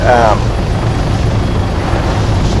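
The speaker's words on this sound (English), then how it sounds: "there's a couple other things that you have to worry about flying the helicopter in advanced mode" A helicopter in the Arma 3 video game flies with a loud, steady rotor and engine roar that fills the whole clip, while a voice talks briefly at the start.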